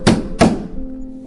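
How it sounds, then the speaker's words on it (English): Two loud, hollow knocks on a wall in quick succession, close and sharp, each leaving a brief resonant ring, alone without speech. "Suddenly, there was a loud knock."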